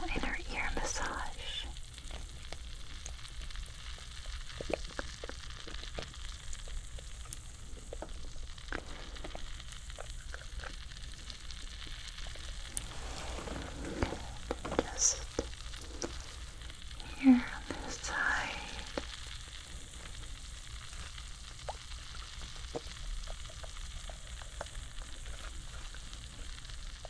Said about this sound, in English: Yeah, you're going to hear it sizzle, but it feels like a little inner ear massage.